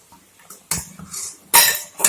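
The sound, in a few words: stirring thickening milk in a pan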